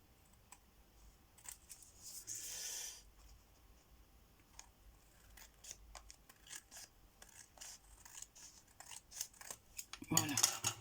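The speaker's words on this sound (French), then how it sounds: "ces ciseaux ne coupent pas terrible" Blunt scissors snipping paper close by, a series of short crisp cuts with pauses, then a louder burst of rustling at the end.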